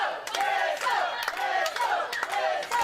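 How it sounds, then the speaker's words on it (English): A wrestling crowd at a W3L show chants in unison for a popular wrestler, a loud, rhythmic group chant with sharp repeated beats and claps. "Here this crowd chanting for Mike Musso, the popular man."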